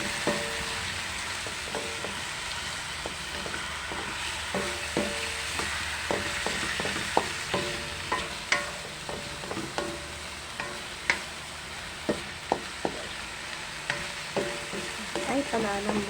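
Chicken for pineapple chicken with milk fries in a pan with a steady loud sizzle, while a spoon stirs and scrapes with repeated sharp clinks and knocks throughout.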